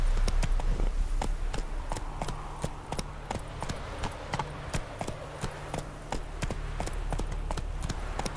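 A horse gallops in The Witcher 3 video game, with rapid, rhythmic clip-clop hoofbeats on a road, fairly close and steady throughout with no talking.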